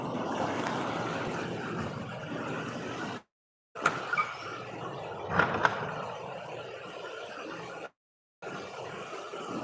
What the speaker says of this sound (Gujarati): થોડોક પાણીનો અવાજ વધુ આવ્યો હોય છે